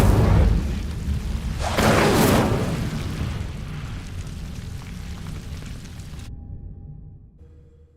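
Incendio fire spell cast in Hogwarts Legacy, opening with a loud whooshing burst followed by a second roaring flare, then a fading crackling rumble that cuts to near silence.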